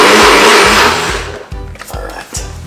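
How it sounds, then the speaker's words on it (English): A blender loudly whirs celery and pineapple juice in a close, roaring burst. It then settles into a lower, pulsing motor churn. "So let's blend this quickly."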